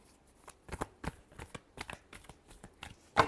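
Tarot cards being shuffled by hand in quick, irregular riffling bursts, close and fairly quiet, ending on a sharper slap of the deck.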